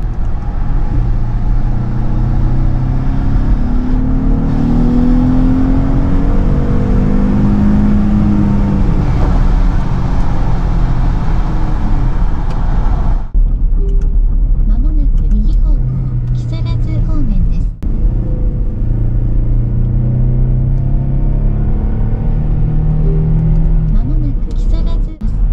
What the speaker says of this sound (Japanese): 6気筒エンジンならではの、気持ちのいい音を奏でております